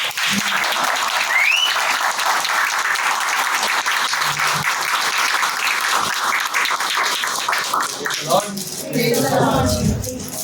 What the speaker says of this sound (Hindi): आइए तालियों के साथ पास्टर जी का स्वागत करेंगे।